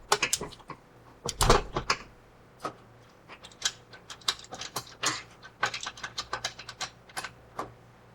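A wrench tightens bolts snug during assembly of a Cravot CyberRack S2 e-bike rack, giving irregular bursts of quick ratcheting clicks, close and moderately loud. Brief pauses fall between the bursts, and there is no talking.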